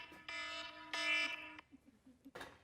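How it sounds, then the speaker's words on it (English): A home alarm sounds during cooking in a kitchen, two loud buzzing electronic tones about a second each, then quiet background with a brief noisy burst near the end. "My alarm."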